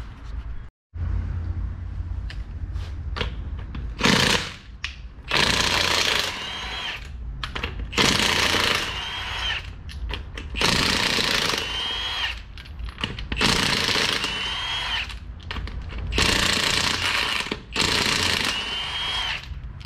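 Power tool, likely an impact wrench, spinning off the five lug nuts on a Nissan Pathfinder front wheel for a brake replacement, close and loud. About seven sharp bursts repeat every couple of seconds with short pauses between them.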